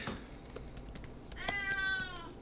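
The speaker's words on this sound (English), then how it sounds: "My cat is literally going crazy." A cat meows in a quick run of rising, wavering cries near the end, over the soft clicking of keyboard typing in a quiet room.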